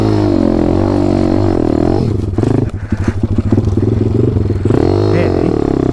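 A motorcycle engine runs steadily throughout a ride on slick ground, its loud, continuous drone shifting pitch as the throttle changes, with a rougher, choppier stretch in the middle.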